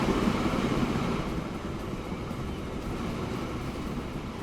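Trains running along a railway line in the game Transport Fever 2, a steady rolling rumble of rail cars and wheels throughout, moderately loud and unbroken, with no talking.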